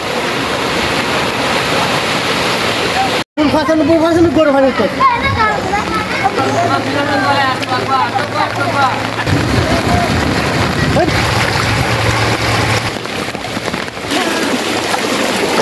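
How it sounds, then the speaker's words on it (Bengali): Strong current of floodwater rushing through a flooded village in Madhabpur, Habiganj, a constant loud watery roar with wind buffeting the microphone, while someone talks over it for much of the time. "দেখেন পানির কি স্রোত, কীভাবে পানিগুলো আসতেছে"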